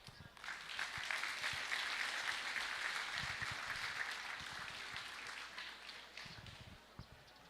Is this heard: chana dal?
no